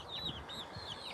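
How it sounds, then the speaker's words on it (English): Backyard chickens cluck softly and repeatedly in a garden while pecking at thrown weeds, faint, high-pitched calls over a low outdoor background. "Just throwing some weeds over here and the chickens are enjoying it."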